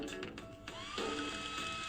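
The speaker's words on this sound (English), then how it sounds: "It's a vacuum broom." A short whirring motor whine with a pitch that shifts and rises, like a small suction device running briefly, close by.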